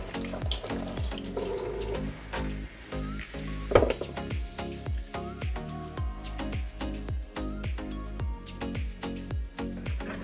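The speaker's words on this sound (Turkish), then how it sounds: "2 adet kabağı yıkamakla başlıyoruz." Running tap water pours over two zucchini being washed in a kitchen sink, a steady close splashing stream through the whole stretch with light handling noises, no talk.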